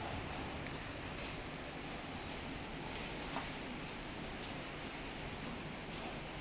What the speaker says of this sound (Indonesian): malam semakin larut, hujan pun tidak berhenti turun.